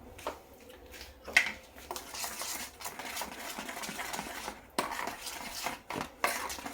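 Hilsa fish pieces being mixed by hand with salt, turmeric and dried chili powder in a steel bowl, giving soft wet squelching and scraping with a few sharper clinks against the metal, close and fairly quiet.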